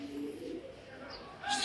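A racing pigeon coos softly and close by, a low throaty burble lasting about a second, with a brief brighter sound at the end.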